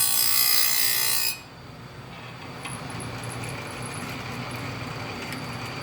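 A hand file scrapes across chainsaw chain teeth to sharpen them. A loud rasping burst is followed by quieter, steady filing strokes.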